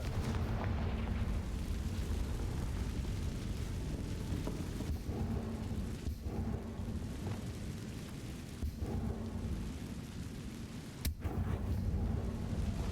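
Fiery spell explosions in the Hogwarts Legacy video game boom and rumble in a dense, continuous roar, with a few sharper bursts punctuating the loud, steady blast noise.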